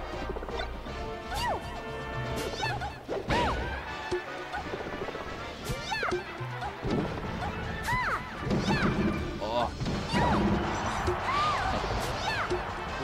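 Down smash attacks land over and over in a Super Smash Bros. Melee tournament match between Daisy and Peach, sharp repeated impact hits and game effects mixed with commentators talking throughout.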